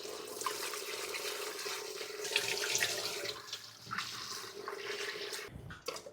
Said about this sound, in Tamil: இதை தண்ணியில் கொட்டி நல்லா மண் போக அலசி வேக வைக்கணும்.